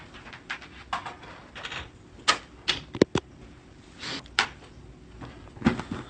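Tarot cards are handled and shuffled up close, giving intermittent soft rustles broken by sharp clicks and taps, with no talking.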